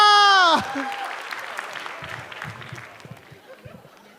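A comedy competition audience breaks into applause after a brief sung or called-out tone at the start, then dense clapping that gradually thins and fades, with faint scattered voices underneath.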